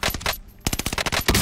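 Rapid automatic gunfire from a Warzone match, loud dense bursts of shots with a brief lull before another sustained volley.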